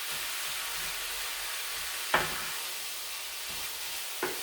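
Ground beef frying in a pan sizzles steadily and softly while being broken up, with two sharp scraping clacks from the utensil against the pan.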